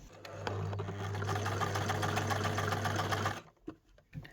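An electric sewing machine stitches a seam half an inch from the fabric edge, its close, steady motor whirr and rapid needle chatter running for about three seconds before stopping, followed by a few small handling knocks.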